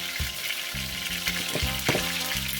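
Oxtail browning in two skillets, Jamaican style: a loud, dense, continuous sizzle with close-up crackle and a few spatula scrapes, no talking, over soft background music.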